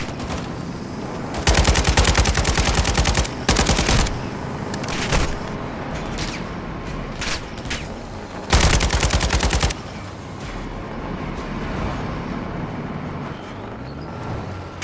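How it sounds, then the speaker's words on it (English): Gunfire in the Call of Duty Modern Warfare 2 video game, loud rapid automatic bursts separated by single shots, set against a constant rumble of combat noise. "Need to get a clear shot before I start shooting."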